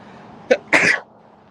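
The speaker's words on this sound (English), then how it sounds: "In the UK, I'm sneezing all the time." A hay-fever sneeze: a short sharp catch of breath followed by one loud, close sneeze against quiet outdoor background, with no speech.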